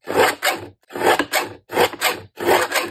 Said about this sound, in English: I am going to use my deckled edge trimmer